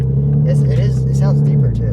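A 2020s MK5 Toyota Supra fitted with a custom MK4 Supra exhaust rumbles with a deep, steady drone and a slight rev rise, loud and close, while people talk over it.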